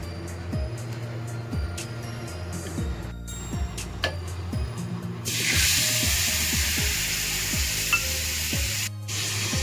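Spice paste thinned with water poured into hot oil for an ilish fish curry with kalo jeere and brinjal: light kitchen clatter and stirring ticks, then a sudden loud, sustained hissing sizzle that fills the rest.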